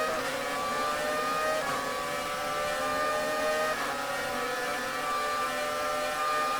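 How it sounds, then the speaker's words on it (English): High-revving 2008 McLaren F1 car engine in the F1 2019 racing game, a steady whining drone with shifting harmonic tones as the car accelerates through the gears, loud and continuous with no speech. "Revving out this engine"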